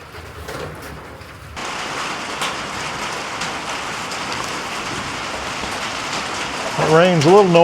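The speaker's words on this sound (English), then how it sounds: "It rain's a little noisy on this tin roof," Rain drums steadily on a tin roof at a farm, a dense hiss that swells after a quieter start, with a wavering tonal sound joining near the end.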